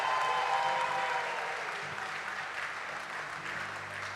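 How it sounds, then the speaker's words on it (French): A church congregation applauds in a service, starting with fairly loud clapping that slowly thins while a faint low hum plays underneath. "Les applaudissements sont un peu, comment dire, encore plus forts s'il vous plaît."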